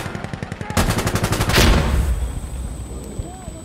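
A grenade detonates in the shooter game Insurgency Sandstorm, a loud broadband blast that follows a burst of rapid gunfire and then fades into a lingering rumble, with shouting voices around it.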